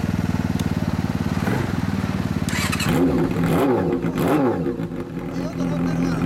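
Yamaha R1-Z 250 two-stroke motorcycle with expansion-chamber exhaust idling steadily with a buzzy pulse, then revving up and down in several sharp blips, loud and close.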